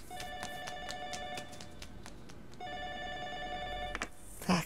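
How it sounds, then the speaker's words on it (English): A telephone rings in a video game scene, two bursts of repeated electronic trilling rings separated by a short gap, fairly loud and steady, ending in a brief thump. "somebody pick a fucking phone up"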